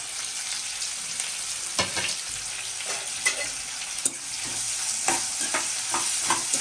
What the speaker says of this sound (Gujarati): ત્યાર પછી આપણે તેમાં જે બે ડુંગળી કટ કરી હતી તે એડ કરી લેવાની છે